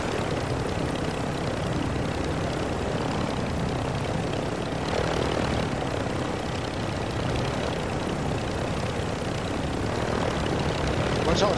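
A helicopter in Call of Duty DMZ, flying over Al Mazrah, drones with a loud, steady rotor and engine roar that fills the whole stretch without letup.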